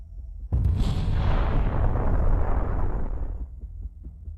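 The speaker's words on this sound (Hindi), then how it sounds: "यूक्रेनी तोपखाना एक वाहन को रोकने की कोशिश करता है" Ukrainian artillery fires on a military vehicle in a field: one sudden heavy boom breaks out and then rolls away in a long, loud rumbling decay that fades over several seconds, with no voices.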